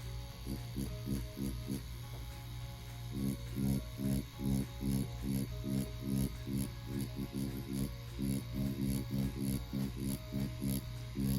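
A CNC Police tattoo needle machine runs with a steady, fast mechanical buzz and low hum. Rapid rhythmic pulsing continues throughout at close range, with no talking.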